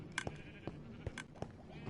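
Video game sheep bleating in a Minecraft wool farm: several short, quiet bleats in quick succession, with faint game ambience.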